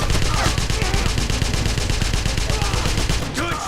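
Rapid automatic gunfire from the Wolfenstein video game roars in a loud, continuous burst of evenly spaced shots, holding steady almost the whole time before a brief break near the end.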